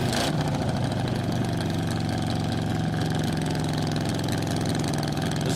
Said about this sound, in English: Sporting a 1984 Chevrolet 8-cylinder with running on 4 cylinders